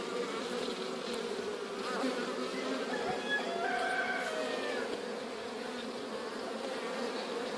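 Many honeybee drones buzz together in a steady, droning hum that continues without a break, close by but fairly quiet, from a drone-laying colony.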